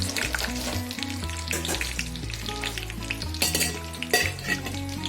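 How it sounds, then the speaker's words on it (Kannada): Dry fruits such as cashews and almonds frying in a hot pan for apple kheer, a steady close sizzle with stirring and metal clinks of a spoon against the pan throughout. "ಇದಕ್ಕೆ ಡ್ರೈ ಫ್ರೂಟ್ಸನ್ನು ಹಾಕಿ ಚೆನ್ನಾಗಿ ಫ್ರೈ ಮಾಡೋಣ"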